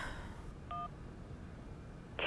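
A telephone in the Syberia video game gives a single short electronic tone partway through a quiet stretch, followed by a sharper buzzing burst right at the end.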